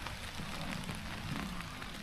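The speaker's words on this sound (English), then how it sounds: "There's the rain right now." Rain falling on a tent at a campsite during a storm, a steady dense patter and hiss at moderate level, continuous and without talk.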